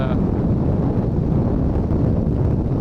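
Rushing wind buffets the microphone while riding a Suzuki DRZ400 motorcycle on grooved pavement, a loud, continuous low roar with no distinct engine note.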